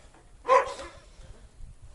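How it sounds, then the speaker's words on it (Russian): A village dog in a snowy rural yard gives a single sharp bark, fairly close, followed by quiet background. "Вот увидит, услышит, что на камеру говорю, начинает лаять."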